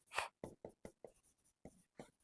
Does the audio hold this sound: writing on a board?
yes